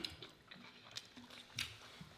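Crunchy bites and chewing of a Popeyes spicy chicken sandwich, close and fairly quiet, with several crisp crunches spaced irregularly and soft mouth sounds between, no talking.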